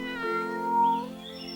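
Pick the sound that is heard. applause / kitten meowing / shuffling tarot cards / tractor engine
kitten meowing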